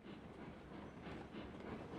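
A train in the railroad simulation game Railroads Online rolls along at low speed, a steady, dense rumble of wheels and rails with no pauses.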